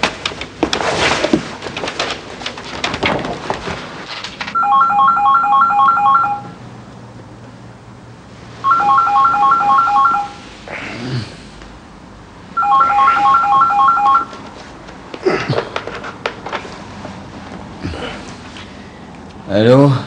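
A telephone on a call to Breuer in a French crime drama: electronic dialing tones, then three long ringback bursts spaced evenly, with clicks, room noise and a voice speaking between the rings.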